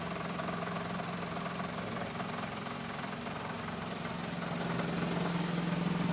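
A steady, continuous three-horsepower motor hum from a rice husk grinder, with a faint vibrating rattle, running evenly at moderate volume with no voices.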